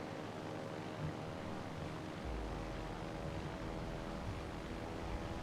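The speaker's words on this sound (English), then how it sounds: "And now I'm in direct control of the planes." Propeller-driven carrier aircraft droning in World of Warships Legends, a steady dense engine hum with a lower rumble swelling partway through, continuous with no voices.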